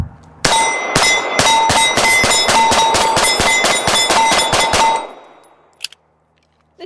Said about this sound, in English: Let's keep shooting this thing